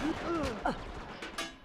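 Gunfire rings out in a competitive tournament match of a first-person shooter, a few sharp reports cutting through excited talk from the players.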